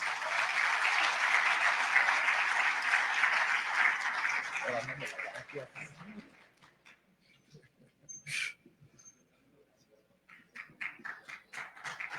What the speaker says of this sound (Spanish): con el aplauso de todos nuestros asistentes por esta primera ronda de diálogo